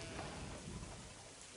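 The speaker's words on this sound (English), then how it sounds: "A proper lightning storm." Rain during a lightning storm in the Caesar 3 game, a dense, continuous hiss of downpour with low rumbling underneath, steady and fairly loud throughout.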